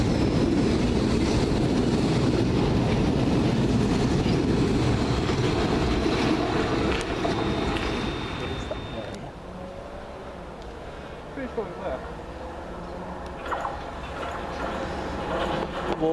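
A London Underground Piccadilly line train runs through Stamford Brook, a loud steady rumble with a brief high squeal. It drops away partway through, leaving quieter ambient noise.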